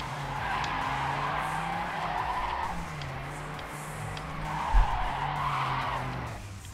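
A Mustang-like car in TrackMania 2 Canyon drifts with sustained tire skidding over a droning engine note, loud and continuous, rising and falling as the car slides through corners, with no talk.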